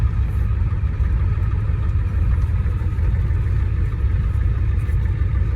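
An '89 vehicle's engine idles roughly with air trapped in its system, a loud, close, continuous low rumble holding steady throughout with no voices.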